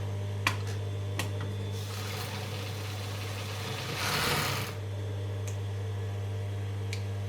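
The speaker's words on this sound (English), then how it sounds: "This overlocker is naturally very fast." A fast overlocker serging the seams of a Halloween costume hums steadily nearby, with a few sharp clicks and a brief louder burst of rapid stitching midway.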